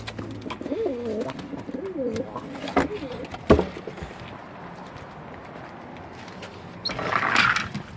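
Pigeons coo in a breeding loft in Mersin, soft rolling calls close by in the first seconds, followed by scattered wing clatter and knocks and a brighter flutter near the end.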